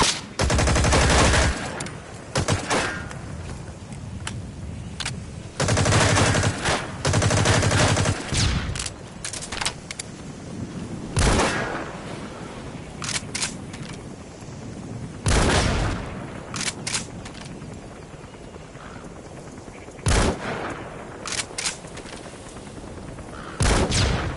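Unsuppressed gunfire in Metal Gear Solid V: The Phantom Pain, loud bursts and single shots cracking out at irregular intervals, some clustered into rapid volleys, with quieter ambient stretches between.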